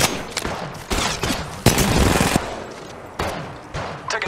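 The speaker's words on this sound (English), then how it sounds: "Getting shot at." Gunfire from the mobile game Apex Legends Mobile, a series of close, loud shots and automatic bursts with short pauses between volleys.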